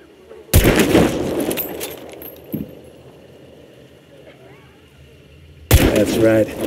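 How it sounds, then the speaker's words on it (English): Long-range gunfire in the Western horror shooter Hunt: Showdown 1896: two loud, reverberant shots, one near the start and one near the end, with a quiet ambient stretch between them. "Now let's do some long-distance shooting"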